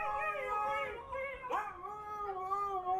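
Two dogs howl together in long, wavering, sung-sounding tones that rise and fall, overlapping loudly and close for about three seconds.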